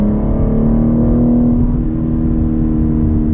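A 2021 BMW M3 Competition pulls hard around a dry race track, its engine a loud, steady, close drone with a slight dip and recovery in pitch, heard alone without talk.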